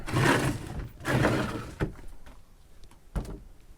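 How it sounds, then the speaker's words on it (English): A 30-year-old redwood deck cabinet's wooden door swings on its hinges, two rustling sweeps followed by sharp wooden knocks and a final thunk as it closes, nearby and fairly quiet, with no one talking. "let's test the door for swinging"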